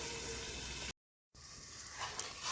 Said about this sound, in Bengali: এবার ঢাকা দিয়ে আমি কাঁকরোলটাকে ভেজে নেব